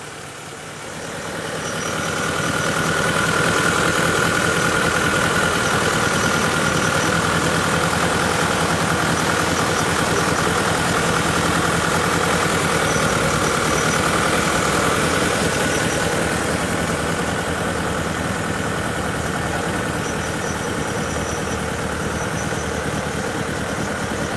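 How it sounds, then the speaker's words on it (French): A Citroen Projet L prototype's water-cooled four-cylinder GS engine idles steadily and loudly, a continuous dense rumble that swells in over the first few seconds and then holds even with no voices. "c'est intéressant de voir que ce moteur qui est absolument unique fonctionne parfaitement"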